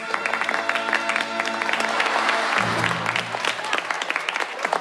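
Classroom applause from a group of students, a steady patter of many hands clapping close by for the whole stretch.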